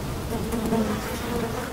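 Flies buzz in a dense, continuous drone, close and fairly loud, wavering slightly in pitch throughout, with no other sounds or voices.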